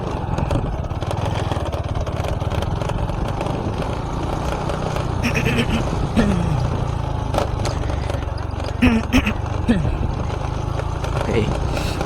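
A Honda Supra X 125 FI motorcycle, fitted with a new high-compression piston, runs steadily on a test ride along a rough road, its mid-pitched engine drone continuous beneath someone talking.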